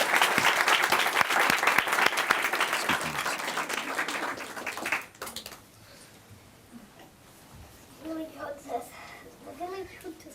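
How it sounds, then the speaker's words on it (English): A storytelling audience bursts into dense, loud applause that keeps going for about five seconds, then stops abruptly, leaving quiet room sounds and faint voices afterward. "Let's give him a round of applause."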